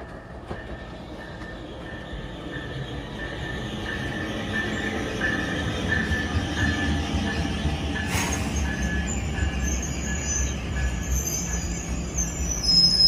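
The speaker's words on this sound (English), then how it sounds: "we have another train to New York" An NJ Transit or Amtrak train passes through Rahway station, its steady rail rumble building in loudness with wheel squeal and clicking over the rails, and a sharp metallic screech partway through.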